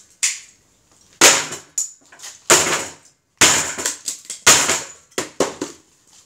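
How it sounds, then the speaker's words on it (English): A JVC 10-watt speaker being smashed, a series of sharp, loud cracking impacts with brief silences between them, each blow breaking the cabinet apart. "It smashed so hard that the screws on the driver come loose."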